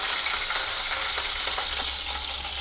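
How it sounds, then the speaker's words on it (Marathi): Curry leaves hit hot oil in a cumin tempering over a low flame, giving a dense, steady sizzle with fine crackles and pops throughout, close by and without speech. "आणि आता हे कढीपत्ता फोडणीला,"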